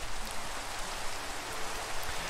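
Rain in Minecraft, falling on a beach, makes a steady, broad hiss that stays loud and even throughout, with no voices over it.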